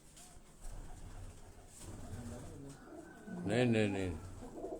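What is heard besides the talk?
pigeon cooing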